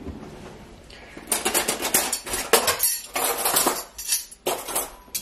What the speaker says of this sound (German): Ich brauche Besteck.